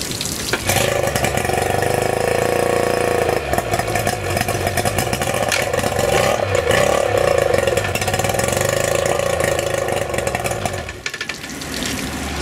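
A 2001 Tohatsu 50HP tiller outboard engine that has been sitting in storage runs roughly, with a loud, buzzing, uneven drone close by that wavers throughout and dips briefly near the end.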